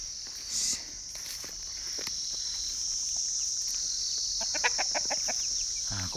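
Chickens cluck faintly on a Nepali farm beneath a steady high insect or cricket drone, with a brief burst of closer clucks near the end.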